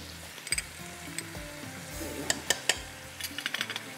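Minced chicken frying with red chilli powder and turmeric sizzles steadily in a pan, with scattered clinks and scrapes of a utensil stirring against the metal.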